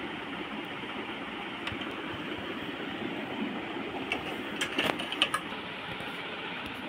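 An embroidery machine's frame slides back and forth during cleaning, a steady close mechanical rattle with scattered sharp clicks and taps growing busier toward the end, no voices.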